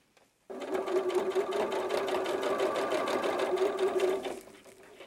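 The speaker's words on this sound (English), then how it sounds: "We're just going to fold a little tiny hem allowance to the back of the pocket and sew it down." A sewing machine runs steadily for about four seconds, stitching down the folded hem of a small pocket for a doll jacket, close and even in speed, starting and stopping abruptly with no talking.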